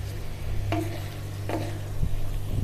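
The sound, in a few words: rice being sautéed and stirred in oil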